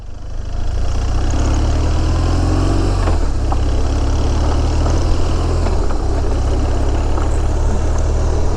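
A motorcycle engine idles steadily with the clutch pulled in and the back brake lightly applied, a loud, even low rumble that holds for several seconds.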